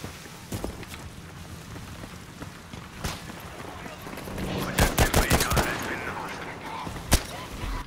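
Battlefield 5 sniper and rifle gunfire, scattered distant shots early on, then a dense flurry of cracks and bursts followed by a single sharp shot, over a steady battlefield background with some talking.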